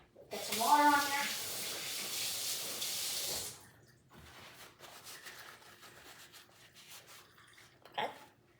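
Tap water gushes into a kitchen sink and splashes over raw chicken for about three and a half seconds, a loud steady hiss, then stops, leaving quieter handling and rustling sounds.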